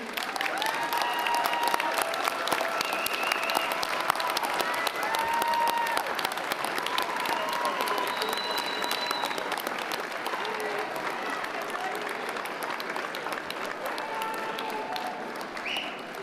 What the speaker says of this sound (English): Would the graduates please turn around and applaud your family and friends on this special day?